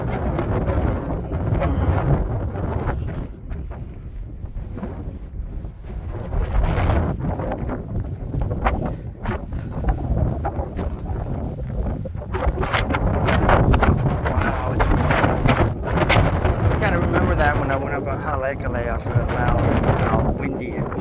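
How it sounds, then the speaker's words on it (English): Strong, gusty wind roars and buffets against the microphone high on the Makapu'u Lighthouse Trail in Hawaii, loud and continuous with rising and falling blasts. "How windy it became."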